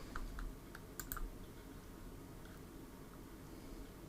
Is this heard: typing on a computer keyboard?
yes